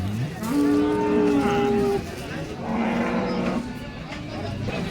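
A big, sturdy cow moos at the Baramati cattle market, a long, loud low call followed by a second, shorter moo, with the bustle of the market around it.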